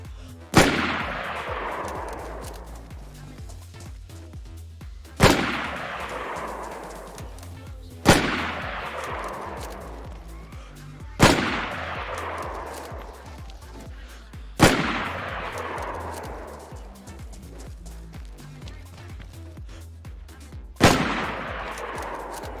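CR550 Savannah rifle firing in DayZ: six loud, single gunshots spaced about three to four seconds apart, each a sharp crack trailing into a long rolling echo.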